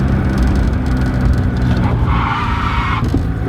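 A car brakes hard on a street and comes to a stop with its tires locked, the new brakes producing a loud, continuous skid with a rising squeal near the end.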